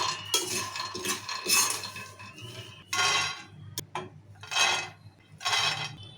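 Fried peanuts scraped from a pan onto a plate, with several bursts of clinking metal-on-metal and rattling nuts separated by short pauses, close and moderately loud, no talking.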